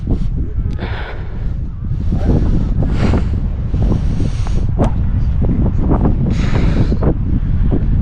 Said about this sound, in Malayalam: മുടിഞ്ഞ കാറ്റാ